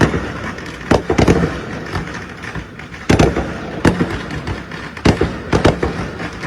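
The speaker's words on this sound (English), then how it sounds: "Here are some fireworks being fired off in New York." Fireworks fired off in New York at night, a series of loud sharp bangs and crackling bursts, some clustered in quick doubles, over a steady background rumble.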